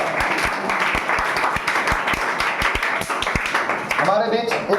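Audience applause at a Class 10 mega quiz competition after a correct answer, a dense run of clapping that fills the room for several seconds before a voice cuts in at the end.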